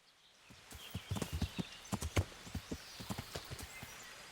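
A horse's hooves clip-clop steadily along in Kingdom Come: Deliverance, a rapid, fairly regular series of close, sharp thuds over faint ambient background, with no talk.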